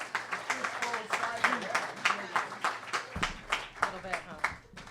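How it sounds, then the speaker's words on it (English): Audience applause for Skylar at a performance, a steady wash of many hands clapping with sharp claps throughout, while voices talk over it. "A big round of applause for Skylar"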